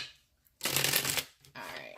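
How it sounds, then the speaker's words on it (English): Tarot cards being shuffled by hand, two close riffling bursts separated by a brief pause, the first longer and louder, the second a softer flutter, with quiet moments before and between. "One more shuffle and we can start clarifying."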